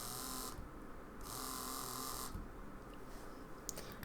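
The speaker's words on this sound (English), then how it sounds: "When I apply 3 volts of electricity to this middle airsoft electric motor," Small airsoft electric motor running on 3 volts, giving a steady high-pitched whirring buzz that drops away and resumes in bursts of about a second each, close and fairly quiet.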